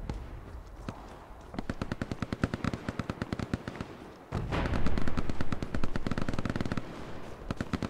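Sustained automatic gunfire in the Hell Let Loose war game crackles in rapid bursts, fairly distant at first and then louder and denser, with scattered single shots between the bursts.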